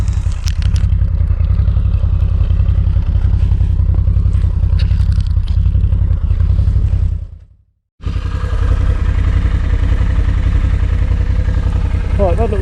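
An Arctic Cat TRV 1000 XT all-terrain vehicle driving up a snowy road, its engine a loud constant rumble with clattering and crackling, cutting out briefly to silence partway through before resuming.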